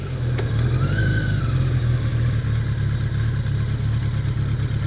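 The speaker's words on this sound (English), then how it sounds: "1982 Yamaha XJ650 Maxim. Thought I'd take her out for a little spin, get the cobwebs out of her a little bit" A 1982 Yamaha XJ650 Maxim motorcycle engine runs steadily nearby, a loud, even low rumble with a slight rise and fall in pitch, out on a fall ride, with no voices.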